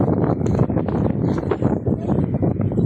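Strong wind roars continuously into the microphone, a loud, low buffeting rush with faint rustling.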